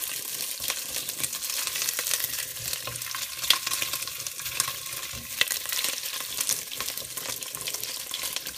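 Food browning in a pan, an even close sizzle with occasional stirring clicks and scrapes, alone without talk.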